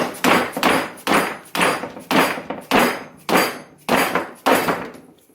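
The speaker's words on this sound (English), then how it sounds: "you might need the dead blow hammer for this" A dead blow hammer strikes a part of a 4-inch rear lift kit being driven into a 2018 Toyota Tacoma, giving about eight loud, close, evenly spaced heavy thuds, each ringing briefly.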